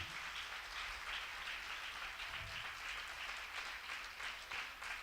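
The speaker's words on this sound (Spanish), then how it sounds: "Puedes darle aplauso al Señor." Church congregation applauding at a Sunday service, a steady wash of clapping held at an even level throughout, fairly distant and soft.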